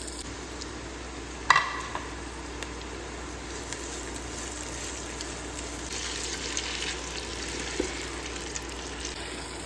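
Onions added to meat frying in a pan for a curry give a steady low sizzle with occasional stirring scrapes and one sharp clank early on, close and fairly quiet throughout.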